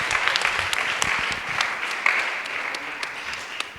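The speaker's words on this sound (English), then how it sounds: "A big round of applause once again." Audience applause at a motivational talk, a dense steady patter of many hands clapping throughout, fairly close and sustained with no letup.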